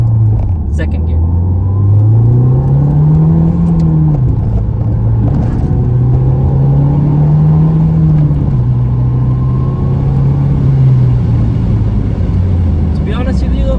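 A 2015 Ford Fiesta ST pulls hard in second gear, its engine droning loud and steady from inside the cabin as the pitch climbs and dips with the revs, while someone talks at times.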